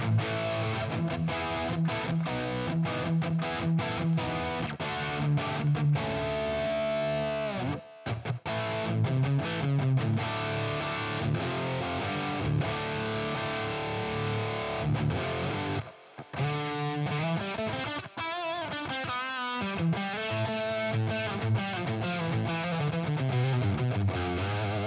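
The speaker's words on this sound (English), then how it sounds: "move the delay before the reverb" Electric guitar played through a neural amp modeler with delay placed ahead of reverb, giving a loud, steady distorted tone with sustained chords and repeating notes that trail off into echoes, briefly dropping out a few times.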